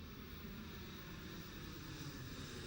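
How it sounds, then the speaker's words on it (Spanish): Steady broadband roar of aircraft engines at Madrid's Barajas airport, heard from the hillside town of Paracuellos as planes land and take off, a continuous distant rumble with no breaks. "nos relajamos viendo cómo aterrizan y cómo despegan sus aviones"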